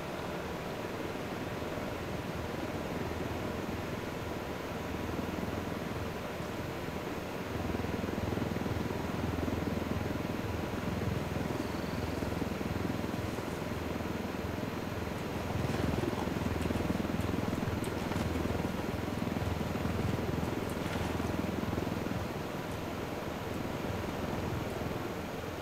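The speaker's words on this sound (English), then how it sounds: "Waiting out the chopper." A video game helicopter's dull, rumbling drone holds steady throughout, broad and washy like rotors overhead, with no talking over it.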